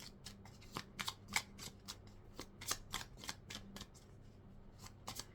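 Oracle cards being shuffled by hand for a reading: soft, papery riffles and flicks in uneven quick bursts, close and fairly quiet, with no talking.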